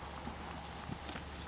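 Soft, rhythmic hoof beats of a horse cantering in a riding lesson, faint and somewhat distant over a steady background.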